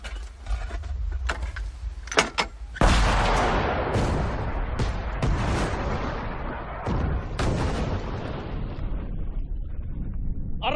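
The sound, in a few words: artillery battery firing in a Finnish war film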